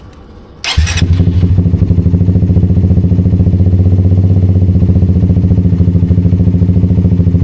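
A Suzuki GSX 150 motorcycle with a new lithium-ion battery starts with a short starter whir and catches at once. It settles into a loud, close, steady idle with an even pulsing beat.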